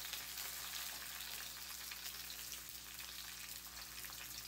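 Bay leaves frying in hot oil with onion and garlic give a steady, dense sizzle, close and even in level, with no talking.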